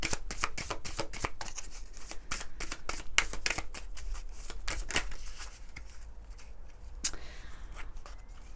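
Oracle cards being shuffled by hand, a long run of close, papery riffling flicks in quick succession, fairly soft, with a brief sharper snap near the end and no talk.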